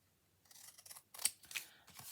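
Scissors cut paper for a music-themed collage in a few quiet, close snips, with short crisp slicing bursts in quick succession.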